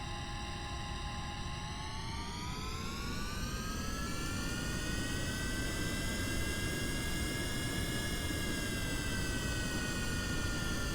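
A jet plane modeled on the Lightning flies in Kerbal Space Program, its engine holding a loud, continuous whine that slowly rises and then eases in pitch, with no talking.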